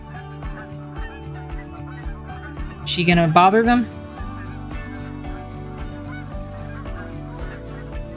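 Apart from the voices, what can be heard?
geese honking in video game theHunter: Call of the Wild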